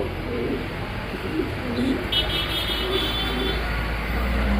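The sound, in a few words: pigeons cooing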